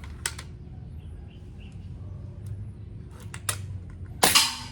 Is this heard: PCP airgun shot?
yes